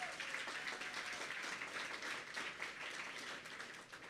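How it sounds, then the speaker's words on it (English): Audience applause for the kitchen staff who catered the evening's meal at a charity event, a steady, moderately faint wash of clapping that holds evenly throughout without a clear break. "let's go ahead and give them another round of applause"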